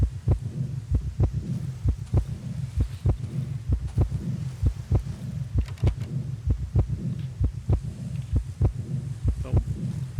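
A heavy, close heartbeat from the survival horror game Darkwood throbs steadily for several seconds, roughly a dozen low paired thumps in even rhythm over a droning hum.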